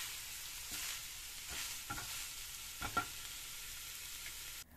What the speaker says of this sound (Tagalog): haluin natin ito ng dahan-dahan nang sa ganun ay hindi ito madurog